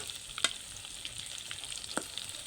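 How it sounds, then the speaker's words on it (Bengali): Aloo chop (potato chops) deep-frying in hot oil, a faint steady sizzle with a couple of brief sharp pops, no talking. "লাল ব্রাউন কালার করে ভেজে নেব, এতে আলুর চপগুলো অনেকটাই মুচমুচে হবে"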